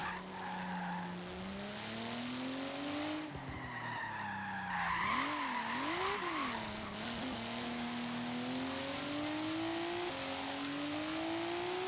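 A Volvo 850R sliding and drifting, its tires squealing in long wavering skids over a revving engine whose pitch climbs, dips and wobbles, loud and fairly close throughout.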